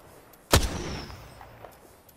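A single sharp gunshot cracks in the video game Apex Legends, close and loud, followed by a decaying echo and faint distant shots over quiet background.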